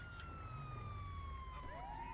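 Police car siren in the GTA Online video game wails steadily throughout, with rising and falling tones over a low engine rumble, heard alone at a fairly low level.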